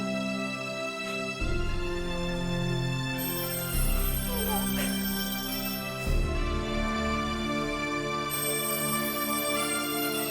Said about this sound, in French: C'est devenu la sonnerie la plus connue de France, le son du chacal.